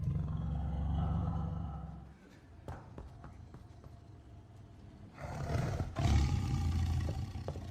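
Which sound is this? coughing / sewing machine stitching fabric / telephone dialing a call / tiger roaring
tiger roaring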